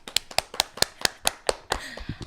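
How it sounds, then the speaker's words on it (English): Several people clap for Sonia, whose restaurant is being thanked, in a short burst of about eight sharp, evenly spaced claps that give way to looser, scattered taps and murmured voices. "Clap for Sonia."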